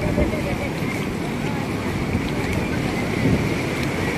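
Large waves surging onto Puri beach, a dense rumbling wash of surf mixed with strong wind noise, steady and loud for several seconds.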